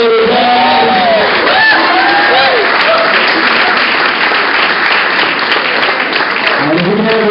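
Wedding guests applaud steadily and loudly throughout, a dense wash of clapping with scattered cheers and whoops, and a few voices calling out over the crowd.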